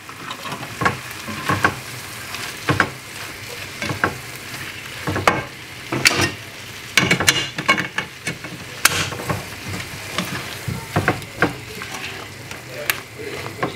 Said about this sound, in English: So I'm just going to add in the courgette into here. Give it a good stir around.